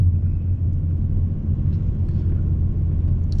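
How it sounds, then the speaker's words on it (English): A Ford Mustang with a 3.7 litre V6 rumbles while driving, a deep, steady low-pitched drone heard from inside the car, continuous and fairly loud with no talking. "it sounds so good, this car. You don't need a radio."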